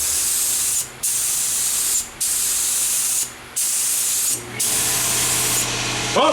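A paint sprayer hisses in long loud bursts with brief pauses between them while painting a bumper, and a pump motor hums underneath toward the end.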